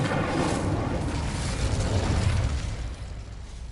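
An Incendiary spell cast in Hogwarts Legacy: a sustained, loud, rushing roar of flame that holds steady for a few seconds before easing slightly, heard alone without speech.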